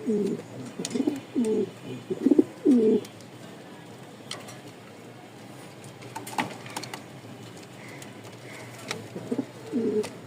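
Rajshahi Giribaz pigeons coo in a series of low throaty calls, a close burst early and a few softer ones later, against quiet background rustle with no talking.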